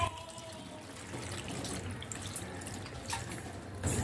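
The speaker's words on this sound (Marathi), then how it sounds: "पाणी टाकायचं आहे" Cold tap water pours and splashes over cooked pasta in a colander, a steady close rush of running water with a few louder splashes.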